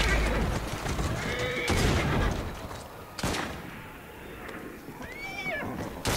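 A horse whinnies in Assassin's Creed Syndicate amid busy game ambience, with a rising, wavering neigh near the end over a steady background of street noise and occasional sharp bursts.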